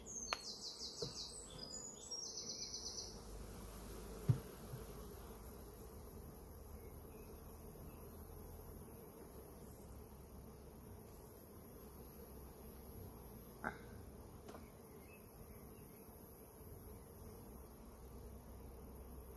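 Honey bees buzzing around beehive frames during a hive inspection, a faint, steady droning hum with a few soft clicks and knocks from handling the frames.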